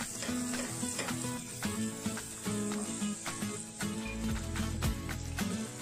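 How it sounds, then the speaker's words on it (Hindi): Onions sizzling in a hot pan while cooking Maggi noodles street-style, a close, steady frying crackle with repeated stirring scrapes and clinks of the spoon, no voices. "प्याज भी मैंने इसमें डाल दिया है। दो सेकंड के लिए हम इसको पका लेंगे।"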